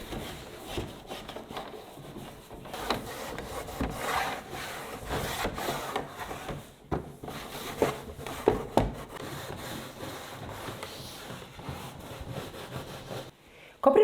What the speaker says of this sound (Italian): Ora col mio straccettino passo tutto all'interno del mobile